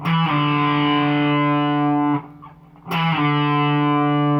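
A distorted electric guitar plays part of a riff, holding a thick sustained note, breaking off briefly with a sliding squeal down the neck, then coming back in with another held chord.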